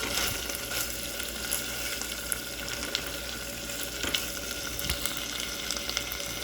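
Cooked beef fries in a pan with a soft, steady sizzle and occasional small pops and clicks, fairly quiet and continuous with no talking.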